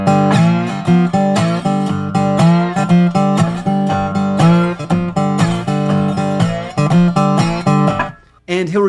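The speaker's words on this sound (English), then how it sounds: "the response phrase sounds like this" Slide guitar in open G plays the response phrase of the Delta blues tune Rollin and Tumblin, a long run of rhythmic plucked notes and slides, loud and close, played alone and ending in a brief pause before one last note.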